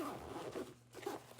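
A zipper runs along the zippered pocket of a knitting project bag, close and fairly quiet: a few quick rasping pulls with short pauses, and no voices.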